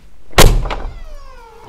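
A 2022 Mercedes G63 AMG (Hofele HG800) door shuts with a single solid thud, close and loud, followed by a short ringing decay.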